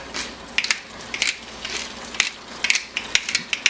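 A pepper mill grinding pepper over a pan, a close run of dry, crunchy ratcheting bursts in quick irregular twists, heard alone without talk.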